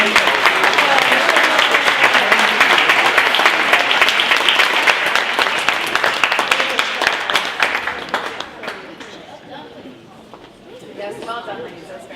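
Wedding guests at an evening reception break into loud, dense applause after a toast, the clapping crowd strong for about eight seconds before thinning into scattered claps and murmuring chatter.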